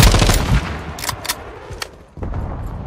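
Sentry gun in the Modern Warfare 2 video game, Hardpoint mode on Black Gold: loud rapid automatic fire in close bursts, then several sharp single shots and a final burst, with no talk.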